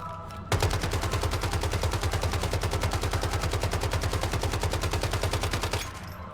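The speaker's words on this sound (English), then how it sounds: "Immediately switch to your assault rifle and just pump and dump a bunch of ammo into them" Assault rifle in the survival shooter Once Human firing one continuous full-auto burst of rapid, evenly spaced shots for about five seconds, loud and close, then stopping abruptly.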